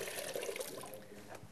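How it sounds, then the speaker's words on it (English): A sponge is dampened in water before plaiting a horse's mane, giving a close, loud swish and slosh of liquid that runs continuously for a moment. "I'm just going to get my sponge damp in the water"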